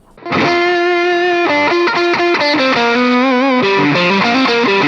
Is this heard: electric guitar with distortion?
yes